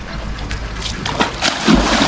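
Water splashes and sloshes in a swimming pool in irregular bursts, with a few louder slaps near the end over a steady wet background.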